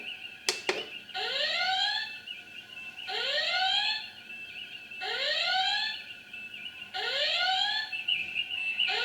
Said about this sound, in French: c'est l'alarme avec les lumières rouges pour indiquer que ça va pas du tout